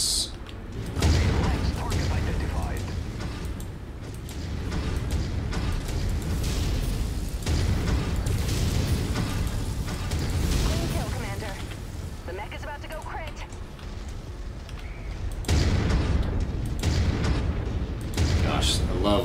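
Heavy autocannon fire and booming impacts pound repeatedly in a dense, loud MechWarrior 5 soundscape, with mechanical clanks and a voice talking over the barrage.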